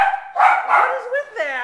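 A dog gives a few yelping, whimpering barks at close range, mixed with overlapping human voices.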